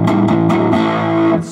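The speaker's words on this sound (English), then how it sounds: "I can take this drive and bring it up, and then maybe this will bring me into a little bit more of a classic distortion land." Electric guitar played through a Roland GA-212 amplifier with the drive turned up gives a loud, crunchy distorted tone, with a few strummed chords ringing out in quick succession.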